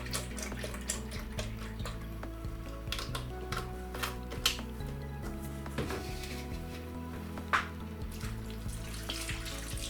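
Milk is poured into a bowl cutter (meat chopper) while making homemade sausages. A steady liquid trickle and splash plays close over faint mechanical ticking, with no talk.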